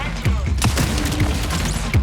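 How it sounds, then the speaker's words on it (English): Vandal's arm cannon in the video game Marathon unfolds with a series of sharp mechanical clanks and thumps, loud and close, spaced irregularly over a heavy low rumble. "The arm cannon for Vandal unfolds"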